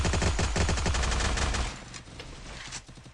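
Gunfire in a shooter video game, with a fast burst of loud, close cracking shots that fades into scattered, quieter distant reports.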